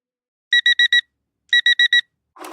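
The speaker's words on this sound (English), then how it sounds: "When that alarm clock goes off at 4 or 5 in the morning" An alarm clock rings in two sharp bursts of four rapid electronic beeps, loud and close, separated by a short pause.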